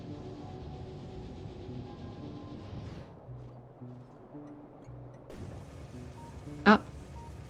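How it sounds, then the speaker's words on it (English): A video game train arrives with a low rumbling, rolling rail sound that drops away midway, followed by soft mechanical tones and a brief sharp chirp near the end. "our train is here."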